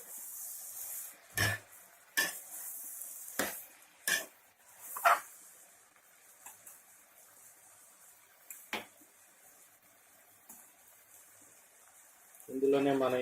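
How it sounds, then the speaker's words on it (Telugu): Chopped tomato pieces being stirred into dondakaya (ivy gourd) curry in a pan, giving a handful of sharp, scattered scraping and clinking strokes spaced a second or so apart, then a louder burst of rustling at the end. "ఇప్పుడు ఇందులో మనం ముందుగా కట్ చేసి పెట్టుకున్న టమాటా ముక్కల్ని వేసుకుని కలుపుకోవాలి."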